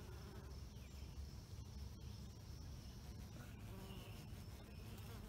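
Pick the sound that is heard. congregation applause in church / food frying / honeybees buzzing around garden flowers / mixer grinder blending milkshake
honeybees buzzing around garden flowers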